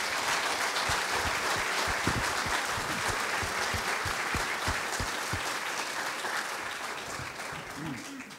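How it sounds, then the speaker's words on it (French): Sustained applause from an audience at a flour mill's jubilee celebration, dense steady clapping that stays loud throughout and tapers only slightly near the end, with some voices mixed in. "Allez, sous vos applaudissements."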